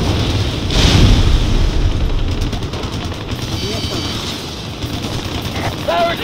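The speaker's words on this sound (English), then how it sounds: "Fire gun." Gun fire aimed at a roadside barricade in a combat video game, a dense rumbling burst over a noisy battle mix, loud at first and then easing, with voices heard through it.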